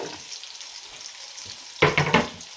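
Garlic, onion and ginger sautéing for a seafood sinigang, a faint sizzle broken near the end by a loud burst of spatula scrapes and frying crackle.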